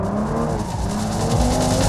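A sports car sliding under power, with a loud continuous engine drone and tire squeal rising slightly in pitch and loudness toward the end.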